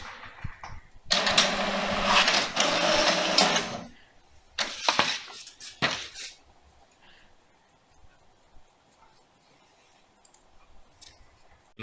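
An HP Wi-Fi 4178 inkjet printer printing a page: a loud stretch of mechanical whirring and clicking, then a few sharp clacks as the paper feeds out, fading to quiet background noise.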